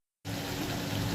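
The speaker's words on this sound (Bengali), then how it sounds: "এদিকে কতগুলো বাসন বেরিয়েছে, বাসনগুলো মেজেছে, এগুলো একটু ধুয়ে নিই এখন" Water pours suddenly from a tap and keeps running in a full, steady gush as dishes are rinsed, close and fairly loud with no talking.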